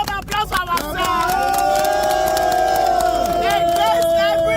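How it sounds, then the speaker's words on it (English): Protest crowd in Lagos cheers and applauds, a loud sustained roar of shouting voices with clapping, following a brief spoken moment. "A round of applause for ourselves."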